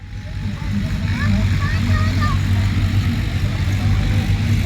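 Tractors drive past on farmland damaged by floods, their engines a steady, loud low rumble throughout. People talk over the noise.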